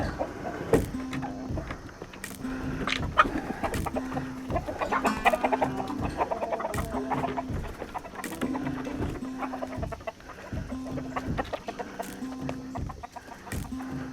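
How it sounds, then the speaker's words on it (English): Chickens and ducks cluck steadily nearby on a homestead, a busy flock with overlapping calls, alongside rhythmic mechanical thumps repeating in the background. "All them chickens and ducks are content."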